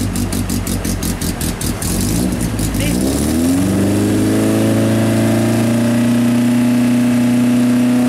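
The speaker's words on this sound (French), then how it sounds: "Au départ, alors toujours une voiture anglaise. C'est une MG TB" A 1954 MG TB, an English vintage race car, starts off with a rapid idle burble that swells into a steady, loud, rising engine drone, close and sustained.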